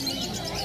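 Pigeons at a pet market in Uluberia, including shirting pigeons, make soft chirps and coos over a steady, close market din with no clear speech.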